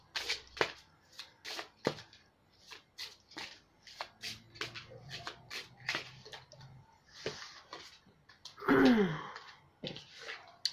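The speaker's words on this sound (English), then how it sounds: "I'm going to pull some love cards for you to see what else is going on." Tarot love cards are shuffled by hand close up, giving quiet, irregular papery riffles and soft slaps in short bursts, with a brief louder rustle near the end.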